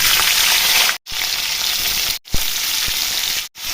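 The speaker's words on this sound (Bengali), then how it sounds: "ওই মাছ ভাজার তেলে ফুলকপিগুলো ভেজে নিব লবণ হলুদ দিয়ে" Cauliflower florets with salt and turmeric frying in oil left from frying fish, a steady loud sizzle broken by three brief gaps and a few soft clinks.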